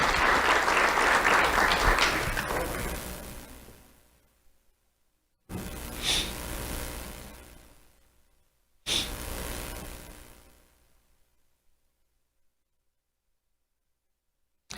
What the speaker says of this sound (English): Let's have a round of applause for Abraham and Noah